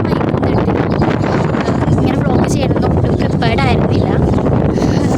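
Wind blows steadily against the microphone with a rough constant rush, under continuous close talking.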